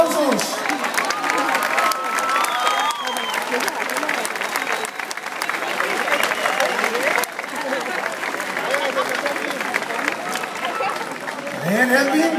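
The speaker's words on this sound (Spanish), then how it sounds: "Que se escuchen esos aplausos." Audience applause with cheering at a live concert, a steady wash of clapping and crowd voices filling the whole stretch at full loudness, with a few shouts rising above it.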